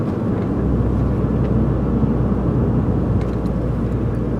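A car passes during a drive, a loud, steady road and engine roar with a broad wash of tire noise throughout.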